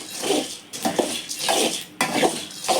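Fenugreek seeds roasting in a pan over a low flame, heard as steady rattling and scraping of a spoon stirring against metal in repeated strokes, close and without voices.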